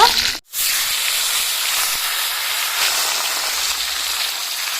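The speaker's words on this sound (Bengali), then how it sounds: "এবার বেগুনগুলো ভেজে নেব মাছের মাথাগুলো ভেজে নেব" Eggplant and fish heads fry in hot oil with a steady loud hissing sizzle, briefly dipping at the start and then continuing unbroken.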